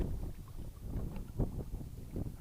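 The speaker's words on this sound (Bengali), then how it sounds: "প্রচন্ড হাওয়া কিন্তু এখানে একদম" Strong wind buffets the microphone in low, gusting rumbles that rise and fall, with faint water movement around a small boat.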